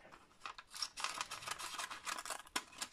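Scissors snip close and quietly through material, a short run of crisp cuts and rustles in a hushed room.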